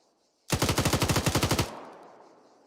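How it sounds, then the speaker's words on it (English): A machine gun in the Arma military video game fires a rapid burst of about a dozen loud, evenly spaced shots at a Jeep, lasting just over a second, then a fading echo tail. "I'll shoot up that Jeep a little bit"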